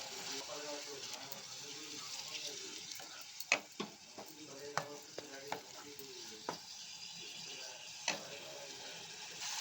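A kushka rice mixture with garam masala being stirred in a hot pot, a continuous close sizzle punctuated by several sharp ladle clicks against the metal rim.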